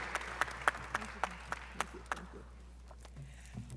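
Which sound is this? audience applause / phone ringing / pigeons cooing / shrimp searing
audience applause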